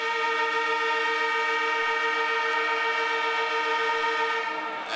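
A long, steady stadium siren blares loudly for several seconds at a 1989 Australian football match, North Melbourne vs Brisbane Bears, a sustained harmonic tone holding its pitch before starting to fade at the end.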